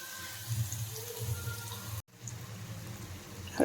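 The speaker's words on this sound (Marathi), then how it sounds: "तोपर्यंत मी मटकी धुवून घेते" Moth beans (matki) are washed in water in a home kitchen, giving a continuous close swishing and sloshing. There is a short pause partway through, and a louder splash comes at the end.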